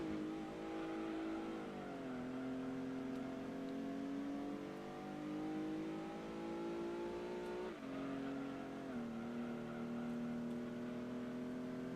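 Race car engines in Gran Turismo 2 revving steadily, the pitch climbing and dropping sharply through several gear shifts, loud and continuous with no voice.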